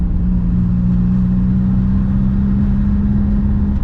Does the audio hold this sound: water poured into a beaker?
no